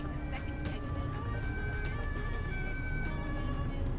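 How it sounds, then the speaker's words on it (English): A siren wails steadily in the distance in Euro Truck Simulator 2, its faint rising and falling tones sitting over a constant low truck engine rumble. "hearing the siren and I'm looking around for it"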